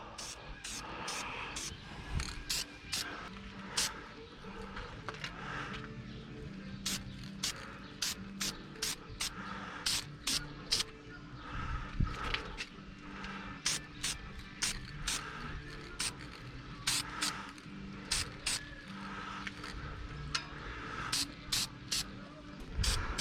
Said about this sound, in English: Now when you're spraying, you want every coat to look wet and glossy.